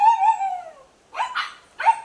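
Young puppies yelp and whine close by: a long high whimpering cry at first, then two short sharp yips after a pause, with no talking.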